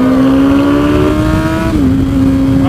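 A Ducati Panigale V4 motorcycle engine droning loudly and steadily at high revs, pitch holding then dropping slightly, close and dominant.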